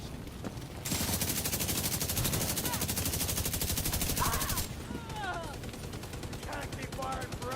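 Sustained automatic gunfire in The Division 2, a dense rapid rattle that runs loud and steady for several seconds, then drops to scattered shots beneath short bursts of game chatter and other effects.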